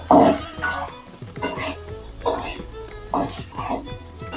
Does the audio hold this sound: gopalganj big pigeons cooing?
no